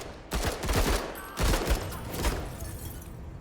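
Squad gunfire in the tactical game MENACE comes as two sharp, loud bursts of rapid shots about a second apart, each ringing out briefly with no speech.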